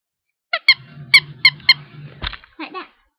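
Squeaky dog toy giving a run of sharp, bright squeaks in short bursts, several evenly spaced then a few more after a pause, close and loud in a quiet room with faint background murmur.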